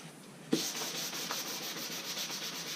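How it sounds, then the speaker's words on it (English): Sandpaper of 320 grit rubs across a guitar body in steady back-and-forth strokes, a close, even hiss beginning after a brief pause and continuing to the end. "this is the roughest piece of sandpaper I would dare to use on it, which is a piece of 320"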